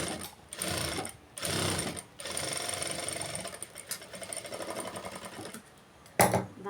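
A sewing machine stitches a computer-embroidery blouse in several loud rapid runs, its needle rattling steadily with short pauses between bursts, close and alone.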